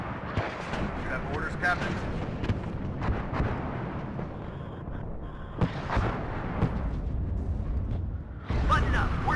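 Artillery and gunfire rumble through a WARNO battle with 3rd Armored Division forces, a continuous barrage of booms and cracks with a few sharper blasts, while a voice talks over the din.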